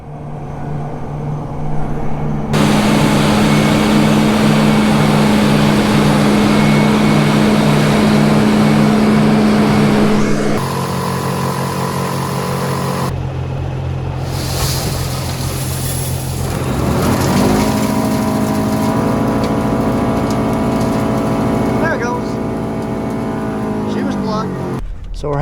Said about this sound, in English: New Holland FR 9060 paired with a Drago 8-rail corn head.